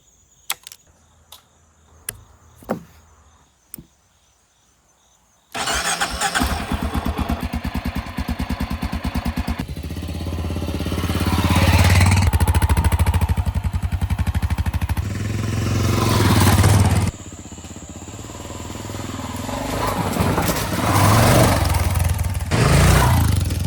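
A motorcycle on a short ride to a moto campsite: several faint clicks and taps, then the engine fires up and runs loudly and steadily for about 18 seconds, revving and rising in pitch as it pulls away, with no talking.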